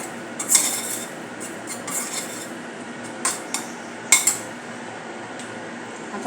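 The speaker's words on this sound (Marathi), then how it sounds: "अर्धा चमचा मी जिरा पावडर घातलेली आहे मिक्स करून घेऊया" A metal spoon stirs cumin powder around a pan, giving scattered scraping clinks and taps against the metal. The strokes are close and moderately loud, coming in irregular bursts with no voice over them.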